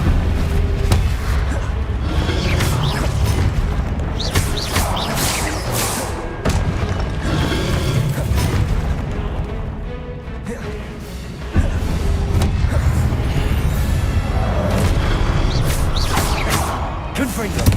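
Confringo blasting spells go off during combat in Hogwarts Legacy, a dense series of heavy booming explosions and crashes over a continuous rumbling battle. A voice speaks amid the blasts.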